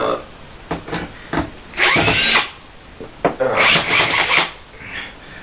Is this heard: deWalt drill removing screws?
yes